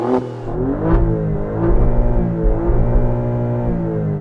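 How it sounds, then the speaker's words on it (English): An Alfa Romeo Stelvio Quadrifoglio's engine is revved hard while stationary, rising in a few loud, close blips and then holding a sustained throaty roar. "Let's hear the Alfa first. Go on, Mum, rev it up."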